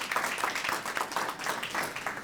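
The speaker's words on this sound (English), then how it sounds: "give them a round of applause" Audience at a public service award ceremony gives a short burst of warm, dense applause, many hands clapping steadily throughout the brief moment.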